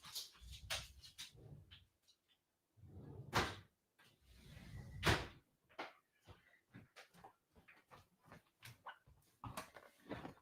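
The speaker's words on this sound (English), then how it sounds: "I've got to just let the dog out for a second." A dog moves about a house as it is let out through a door, with short clicks, knocks and shuffling bursts of movement close by, separated by quiet gaps.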